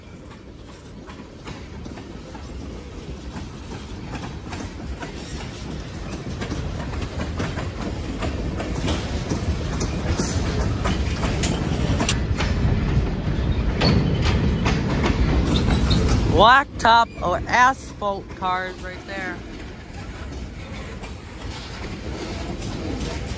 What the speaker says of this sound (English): Here comes in the train